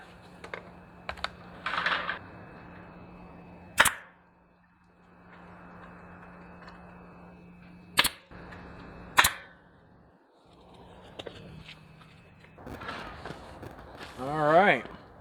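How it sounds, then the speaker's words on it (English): A staple gun driving staples through welded wire fence into a wooden garden gate: several sharp, loud snapping shots spaced a few seconds apart, separated by quiet handling and rustling, with a voice speaking near the end. "now we're just going to take our staple gun here and staple our welded wire fence to our gate"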